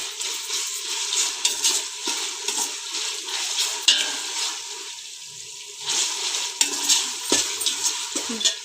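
Sliced onions sautéing with ginger-garlic paste in a pan for chicken biryani: a continuous loud sizzle with repeated stirring scrapes and clinks, close up, with no talking.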